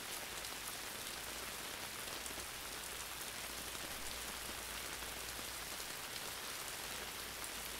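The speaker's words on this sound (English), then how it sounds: "Let every raindrop you hear on the material above send you deeper into a more relaxed and sleepier state" Steady rain patters on a material overhead, a dense, even wash of drops that stays constant and close for the whole stretch, with no voices.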